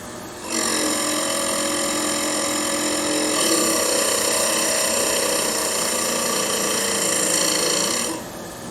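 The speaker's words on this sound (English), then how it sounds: "We'll wait until we see sparks, and then we'll advance it a little bit further counterclockwise to really get a good grind on it." A motorized grinding wheel sharpens the blade of a Consew DCS S4 leather skiver, giving a steady, high, humming whine that starts abruptly, holds for about eight seconds and then cuts off.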